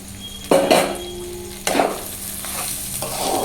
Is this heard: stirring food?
yes